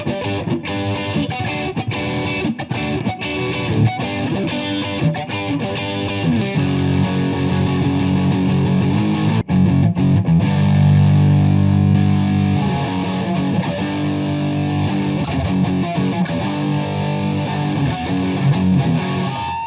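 Epiphone 335 signature electric guitar on its middle pickup position, driven through a tube screamer into high-gain distortion, plays sustained chords and riffs alone at a loud, steady level for about twenty seconds.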